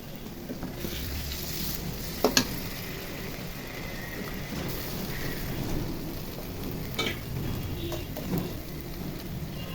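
Ginger and garlic paste frying in a pan for a chicken curry, a soft steady sizzle with a few sharp scraping clicks from a utensil, close but fairly quiet, no talking.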